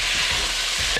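Tomato drops into a frying pan of beef and browned garlic, raising a brief, loud, dense sizzle that stays steady for about a second.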